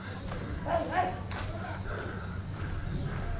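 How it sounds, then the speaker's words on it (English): Street dogs in Jodhpur, India barking and yipping a few times at moderate distance, brief calls over low street background noise and a voice. "Dogs everywhere."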